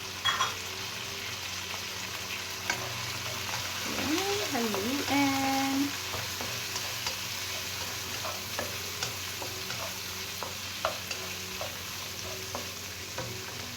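Pork belly and bitter gourd stir-frying in a pan, a steady soft sizzle with light scraping stirs and occasional clinks, with a brief murmur of voice partway through.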